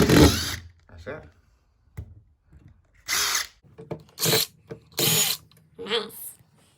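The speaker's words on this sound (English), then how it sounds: "Get your drill bit straight inside the screw head." A power drill drives screws into wall panelling in several short, loud whirring bursts separated by pauses, with people talking nearby between the bursts.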